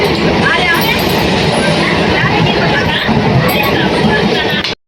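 Inside an air-conditioned local train bound for Krishnanagar: a loud, steady rolling roar of the carriage with faint clinks and murmuring voices in the background, cutting off abruptly at the end.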